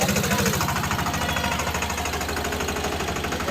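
A tractor engine runs nearby at night, with a steady, rhythmic low chugging and knocking pulse, and some rattling on top.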